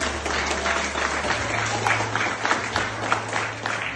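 Audience applause at an anniversary celebration gathering, a steady burst of many hands clapping close and fairly loud, filling the moment for a few seconds.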